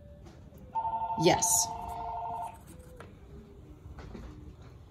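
Telephone ringing in a classroom-style math lesson, a steady electronic ring lasting about two seconds, loud and close, then cut off abruptly; a person talks before and after it.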